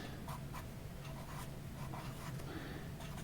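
A pen or marker scratches out an equation in a series of short, quick strokes, close and fairly faint, with a soft steady background hiss and no talk.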